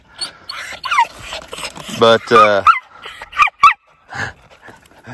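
A coon dog near a flooded creek, facing a raccoon, lets out short barks and high, wavering whimpers and yelps close by, with someone talking over and between the calls.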